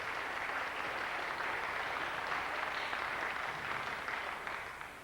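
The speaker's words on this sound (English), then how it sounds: "And a big round of applause for Melissa and her fiddle class from Roslea" Audience applause at a memorial concert of traditional music in Roslea, following a fiddle and harp performance by a young fiddle class; steady, fairly distant clapping that tapers off at the end.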